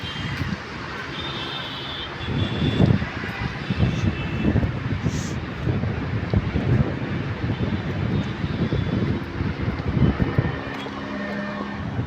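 A small aircraft flies near Dhaka airport, its engine a continuous low roar that swells and fades slightly over twelve seconds, mixed with gusty wind buffeting on the microphone.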